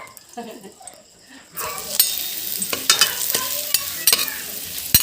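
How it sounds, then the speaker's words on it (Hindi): Papad fries in hot oil, starting after a quiet moment with a loud bubbling sizzle and sharp crackles, plus several spatula knocks against the pan. "पापड़ इधर पापड़ फ्राई कर रहे हैं"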